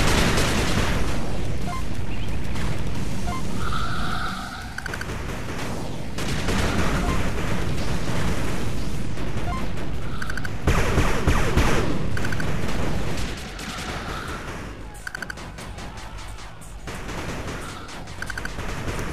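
Artillery and gunfire in the retro strategy game 8-Bit Armies: sustained dense volleys of booming shots and blasts, loud and continuous for nearly twenty seconds with short dips and bursts of rapid fire.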